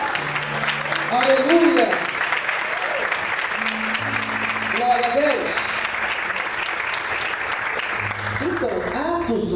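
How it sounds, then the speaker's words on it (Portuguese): A church congregation breaks into sustained applause during a Pentecostal-style service, a dense roar of clapping that swells and holds throughout while voices call out praises over it. "Você pode aplaudir ao Senhor."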